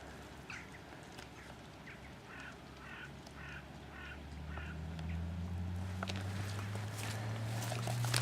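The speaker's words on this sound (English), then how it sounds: "The old seagulls taking off there." Over a muddy field, birds call in a run of short, repeated honking squawks at a moderate distance. A low rumble grows beneath them and builds toward the end.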